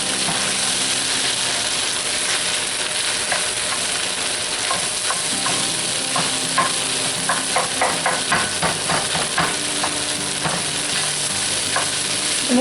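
Bacon and finely chopped ingredients are stirred into fried rice in a cast iron pan, giving a steady loud sizzle with repeated scraping and clinking stirs, no talking.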